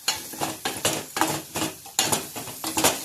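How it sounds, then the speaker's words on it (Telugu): A ladle stirs carrot curry in a pot with steady back-and-forth scraping and clinking strokes, close and fairly loud, with no talking. "క్యారెట్లు వేసిన తర్వాత దాన్ని గంటతో అటు ఇటు అనాలి"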